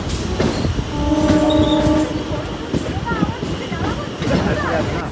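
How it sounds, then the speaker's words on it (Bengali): A train pulling into the platform at Baruipur station, with rumbling carriages, horizontal horn-like tones midway, and crowd voices and chatter over the busy rail noise. "4 নম্বর প্ল্যাটফর্মে ট্রেনটা দিয়েছে"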